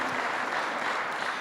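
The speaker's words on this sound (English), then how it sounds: "we'll clap to that" Audience clapping at a State of the County address, a steady dense wash of applause holding at even loudness throughout, with no clear voices over it.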